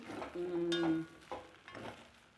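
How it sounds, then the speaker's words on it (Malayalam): Spoon stirring upma made from rava and semiya in a pan, a soft scraping and shuffling heard in a couple of brief quiet strokes. "ഇനി നമുക്കൊന്ന് ഇളക്കി നോക്കാം, ഇളക്കിയെടുക്കാം."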